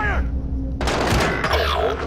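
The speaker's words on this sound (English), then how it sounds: "He's using a fire shotgun. Or no, just a shotgun." Shotgun blasts in the Apex Legends video game, a burst of loud close gunfire erupting after a brief pause, with a second shot and a voice speaking partway through.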